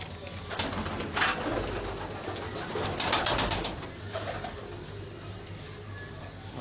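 Pigeons coo softly and continuously in a breeder loft where paired males are kept apart, a steady layered murmur of overlapping calls with a few louder swells.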